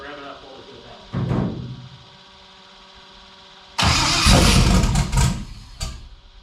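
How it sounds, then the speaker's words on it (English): A shop car's engine cranking and catching in a workshop, first a short start attempt that fades, then a loud start that revs hard before settling, with people talking faintly in the background. "So rev it up, hold it to the belt."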